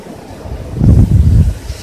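Wind gusts outdoors, a low roaring rush that swells loud for about a second and then eases, with no voices.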